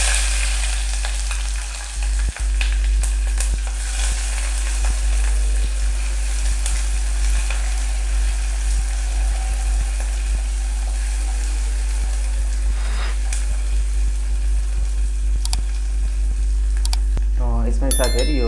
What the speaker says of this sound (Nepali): तेल पनि मजाले तातेको छ साथीहरू। यसमा मैले चाहिँ थोरै आधा चम्चा जति 5 फोरन एड गरिदिएको छु।